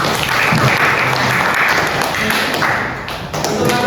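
A classroom group claps together at the end of a training session on binary-to-decimal conversion and subnet prefixes. The dense, steady applause sounds close and fills the whole stretch, dipping briefly near the end before swelling again.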